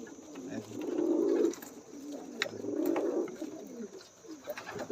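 High-flying pigeons cooing in a breeding loft, two soft, rolling coos repeating about a second and a half apart against a low background hum, fairly close.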